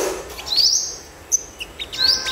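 A sunbird chirps at close range, with loud, sharp, high rising tweets and a few short clipped notes in quick succession, alone with no talking.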